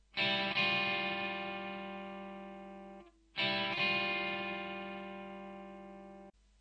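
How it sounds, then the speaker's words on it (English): Two sustained, ringing guitar chords, each struck and left to decay in a wash of reverb and echo, with a brief gap between them. "The intro is with loads of reverb and delay and goes like this."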